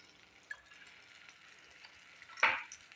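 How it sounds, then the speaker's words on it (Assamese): Butter sizzling in a kadai over a gas flame while making chana chikki: a faint, steady hiss that swells into a short, sharp crackling burst near the end, with no talking. "এয়া গেছত কেৰাহী এখন উঠাই দিছোঁ। ইয়াতে মই এচামুচ আৰু বাটাৰ দি দিছোঁ"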